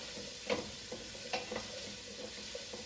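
Diced vegetables sizzle steadily in olive oil in a pan while being stirred for a chicken Provençal soup, with a close constant frying hiss broken by a few sharp scraping knocks from the stirring.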